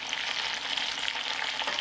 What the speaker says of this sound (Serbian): Kada se meso fino zapeklo sa svih strana, dodajem jednu glavicu crnog luka.